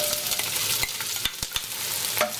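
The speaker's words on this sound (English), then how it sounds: "what I have here in my pan is a droplet of oil in which I am going to saute my onion" Onions sautéing in a droplet of oil in a pan for a Surinamese dish, with a steady hiss of sizzling broken by a few sharp scrapes and taps of a utensil; no voices.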